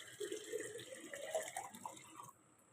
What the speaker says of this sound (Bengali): চা বসিয়ে দিয়েছি আর জলও ভরছি